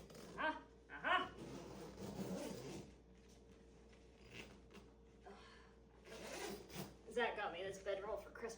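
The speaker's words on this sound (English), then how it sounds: "Zach got me this bedroll for Christmas one year, and I adore it, even though the zipper does have issues." A bedroll's troublesome zipper is pulled in several short rasping bursts, close and fairly quiet, with brief pauses and faint other sounds between the pulls.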